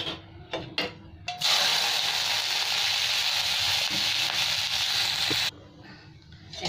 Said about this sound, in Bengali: এবার আমি নিম পাতাটা ভেজে উঠিয়ে নেব।